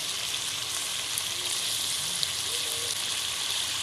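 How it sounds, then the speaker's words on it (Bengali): Chicken meat frying in a pan, a steady close sizzle with a soft crackling hiss that holds evenly throughout, no voices over it. "মাংসটা একটু আমি ভেজে নিচ্ছি"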